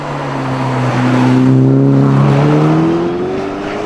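A Ferrari Portofino M with 620 horsepower accelerating hard, its engine note climbing steadily in pitch for several seconds, loud and close with no talking.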